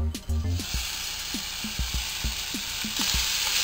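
Bacon and garlic fry in a little vegetable oil in a small saucepan, a bright, dense sizzle close at hand, with a few faint low thumps and a voice murmuring briefly underneath.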